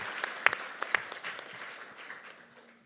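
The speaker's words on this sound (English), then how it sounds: "Can we give another round of applause for our sister Savvy, who has done so much work in North Carolina?" Applause from a hearing audience in honor of an organizer from North Carolina, a few sharp claps standing out early before the clapping thins and fades away.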